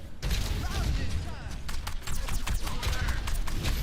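Grenade launcher fire in Overwatch, a rapid series of sharp blasts and thuds over a busy battle backdrop, with a voice talking faintly underneath.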